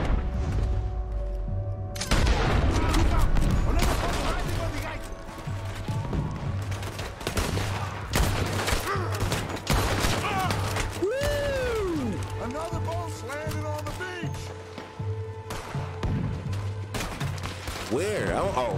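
Heavy gunfire in Red Dead Redemption 2, with dense volleys of shots, sharp cracks and booms from several guns, loud and close, while voices talk over the shooting.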